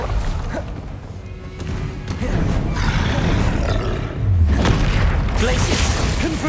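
A fire spell cast in Hogwarts Legacy gives off deep roaring whooshes and booming bursts, loud and close, that swell over one another in a dense, rumbling wash of game effects.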